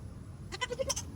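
Baby goats on a homestead give a quick, high, wavering bleat lasting under a second, close and clear over a quiet background.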